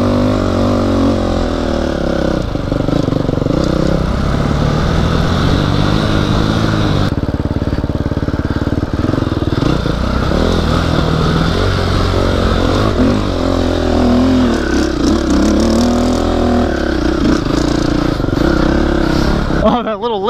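A dirt bike engine revs and strains hard and close while climbing a steep cliff, its throttle rising and dropping in bursts with clattering over rough ground, and a rider's voice is heard now and then over the noise.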